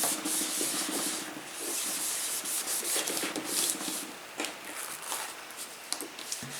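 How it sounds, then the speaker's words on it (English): Paint splatters rubbed off a silicone craft mat after watercolor work: steady back-and-forth wiping strokes, a continuous close scrubbing sound with rhythmic swells, no voices. "The splatters wipe up no problem."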